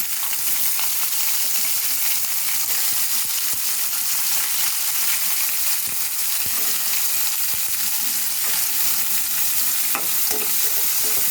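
Onions frying in hot oil with green chillies in a pan for a moong dal and spinach dish, a loud dense continuous sizzle with occasional stirring scrapes and clicks throughout.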